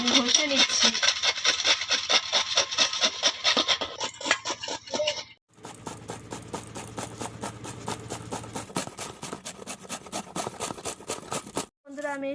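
Young jackfruit is scrubbed after washing, giving continuous close rasping and rubbing strokes, with a brief pause midway and another near the end.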